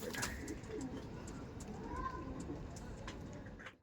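Tournament-quality Punjab pigeons being let out, a steady rush of wings and soft cooing against outdoor bustle, with someone talking over much of it.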